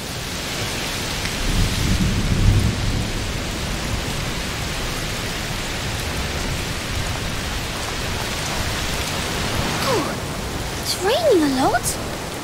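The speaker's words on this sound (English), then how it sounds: "Must be a heat storm." A thunderstorm with heavy rain in the game A Plague Tale: Requiem: a constant rain hiss under low rolling thunder swells, with a brief voice near the end.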